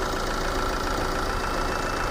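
A Tata Hexa's Varicor 400 engine idles with a steady, even hum and rattle, heard close and continuous throughout.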